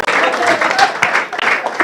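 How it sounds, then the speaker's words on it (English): A graduation ceremony crowd claps for a graduate and her team, giving a loud, close burst of many-handed applause that swells and dips, with a voice partly audible over it. "Let us clap for her and for the team."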